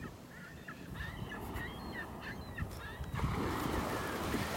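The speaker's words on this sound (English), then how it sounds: "Laughing gulls up there in front of me." Laughing gulls on a North Naples, Florida beach give a series of sharp, repeated calls at moderate distance over the constant wash of surf.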